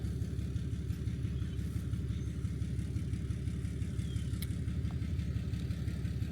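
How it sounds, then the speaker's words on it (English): A diesel Ram pickup truck idles nearby with a low, steady rumbling clatter that continues without change. "Other than the diesel Ram truck that's been sitting here for a while,"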